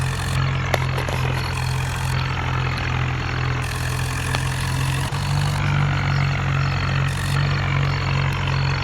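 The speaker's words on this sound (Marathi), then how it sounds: "ट्रॅक्टर चालू केलं मित्रांनो." A John Deere tractor engine rumbles steadily at idle, a deep continuous throb close by with a brief dip and restart of the rhythm midway.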